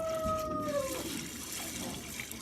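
Milk squirting by hand from a cow's teats into a pail during morning milking, a steady liquid hiss and spray sound, close and fairly quiet, with no talk.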